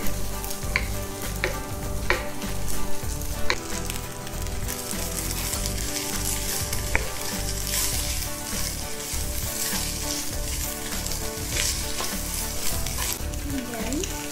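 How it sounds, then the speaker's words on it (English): Fried rice sizzles steadily in a hot wok while being stir-fried, a loud continuous crackle broken by frequent scraping and clanking of the spatula against the pan, with no voices. "I call this original fried rice."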